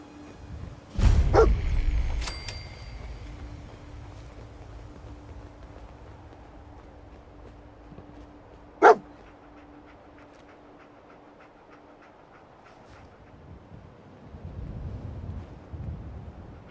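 Dog in Fallout 4 gives a couple of loud barks near the start, then sniffs and snuffles quietly in a calm game scene, with a sharp click midway and more rustling toward the end.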